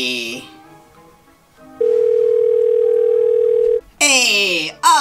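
A phone rings out a FaceTime call tone, a steady loud electronic tone holding for about two seconds, with voices talking before and after it.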